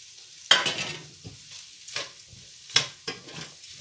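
Boiled chicken pieces fry and are stirred in a pan, with a low sizzle broken by several sharp scraping bursts of the spatula at uneven intervals.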